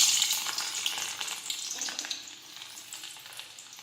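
Garlic sizzles in hot oil in a pan while okra curry is being made, a steady bright frying crackle that holds loud then eases slightly, with no talking.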